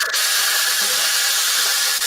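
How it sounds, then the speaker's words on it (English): A power tool grinds steadily through a pen blank, a bright, dense whining buzz that runs continuously at close range, with no voices. "I'm just cutting a blank"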